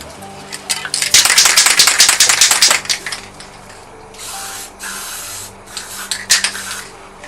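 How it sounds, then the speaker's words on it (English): White spray paint hisses from an aerosol can into a spare container in several short bursts, loud and close, followed by softer sprays, with no talking. "we get our white paint and we spray a little into our spare container"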